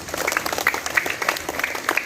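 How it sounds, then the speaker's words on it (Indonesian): An audience claps for the officers at a school ceremony marking Pancasila Sanctity Day, a dense, steady round of applause from many hands that carries evenly throughout. "Makanya berikan aplaus dulu untuk para petugas hari ini."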